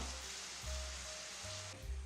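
A quiet, steady sizzle of pear caramelizing in a pan, with faint low bumps as the pan shifts.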